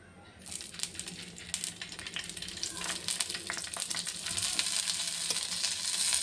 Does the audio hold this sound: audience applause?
no